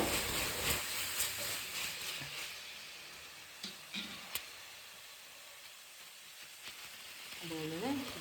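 Gravy for egg curry sizzles and hisses in a pan as coriander powder is stirred in, with occasional light scrapes and clicks of the spoon, fairly quiet and close.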